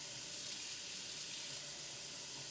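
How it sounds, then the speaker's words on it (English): Cold water runs from a kitchen tap to fill a cup, a steady continuous hiss and splash with no break, close by and with no speech. "I'm going to fill it up with cold water"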